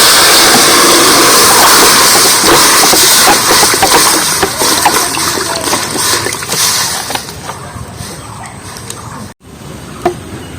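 Water hits a hot kadai with a loud, broad hiss and sputter right up close, fading gradually over several seconds into a quieter simmer with a small clink near the end.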